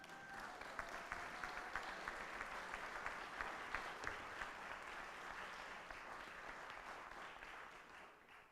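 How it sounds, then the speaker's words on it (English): Rotary club audience applauding as a new club president steps forward at a changing-of-the-guard meeting, a long, steady patter of many hands from a room-sized crowd, fairly soft and fading slightly toward the end. "Yeah, you can applaud for that."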